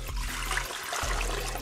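Water poured from a container into the pot of a Power Pressure Cooker XL, a steady close splashing pour of about two cups that briefly breaks off midway and then resumes.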